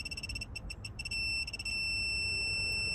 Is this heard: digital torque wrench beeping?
yes